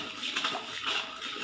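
Water pours in a steady, close splashing stream onto sugar in a brass pot to make syrup for badam halwa, with no voices over it.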